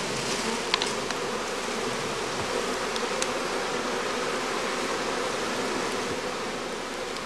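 A dense swarm of honey bees at a skep-beekeeping farm during cast swarming, young queens among them, drones a steady, loud, close buzz that fills the whole stretch without pause, with no voices over it.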